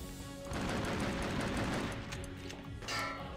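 Rapid gunfire from a shotgun in the video game Freedom Fighters, a dense continuous burst of blasts with a second sharp volley near the end, no talking.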